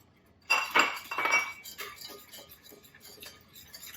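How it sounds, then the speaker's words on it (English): Metal spoon stirring flour into hot oil in a pot to start a roux for chicken and sausage gumbo, a run of close clinks and scrapes against the pot that fades into lighter scraping. "I'm gonna go ahead and add my flour and stir that"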